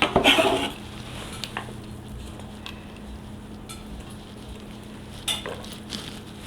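Chopped onion tipped from a cutting board into a hot pan for cabbage stew gives a loud sizzling burst at the start, then a quieter steady fry with a few utensil clinks and scrapes, no talking.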